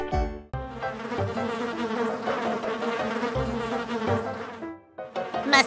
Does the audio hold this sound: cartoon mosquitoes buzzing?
yes